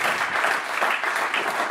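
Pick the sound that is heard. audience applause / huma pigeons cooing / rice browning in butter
audience applause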